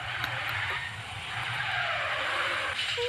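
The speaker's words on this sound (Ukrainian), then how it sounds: "Дрифт." Car Simulator video game car drifting, a continuous loud tire skid and squeal over a steady engine rumble for about three seconds, with no talk.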